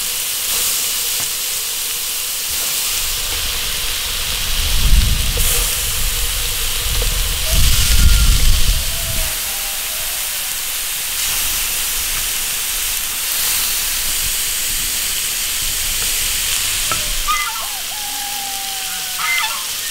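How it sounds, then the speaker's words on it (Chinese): Pork belly sizzles in an iron pot on a cold day, slowly rendering its fat, with a constant loud hiss, brief surges of crackling and low rumbling, and a few faint squeaks in the background. "先让它慢慢把那个猪油烤出来"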